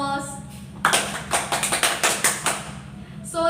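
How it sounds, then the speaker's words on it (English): A short round of applause from a classroom of students, several hands clapping in an uneven patter for about two seconds, with talking before and after. "Let's give a round of applause."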